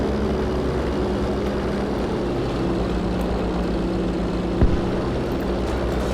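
A military propeller aircraft flying in the video game Battlefield V: a steady, loud engine drone that holds throughout, with a brief thud near the end and no talk.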